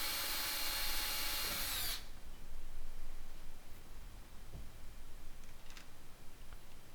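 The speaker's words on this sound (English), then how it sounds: "it's usually easier to drill these holes after you already have the component in place" A power drill bores mounting holes for hardware on a DIY solar generator build: a loud, steady whine for about two seconds that then cuts off, leaving faint handling ticks and room noise.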